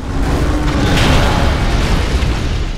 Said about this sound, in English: Watch the explosions.